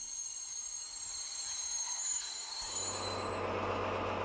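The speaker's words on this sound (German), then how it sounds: "In den Bahnhof rollt der Gegenzug nach Gera." A diesel train rolls into a small-town station in Thuringia, bound for Gera: faint rushing noise builds, then a deep, steady diesel engine drone joins partway through and holds at close range.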